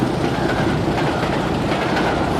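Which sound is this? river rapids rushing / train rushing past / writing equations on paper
train rushing past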